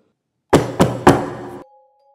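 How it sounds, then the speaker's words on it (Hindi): Three loud, close knocks on a door, evenly spaced, ringing briefly after each strike, followed by a faint sustained tone, used as a horror story sound effect. "दस्तक हुई।"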